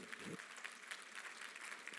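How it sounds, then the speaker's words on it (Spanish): A brief burst of church congregation applause during a sermon, a dense patter of clapping heard at a moderate distance, with voices mixed in. "un aplauso de gloria a Él"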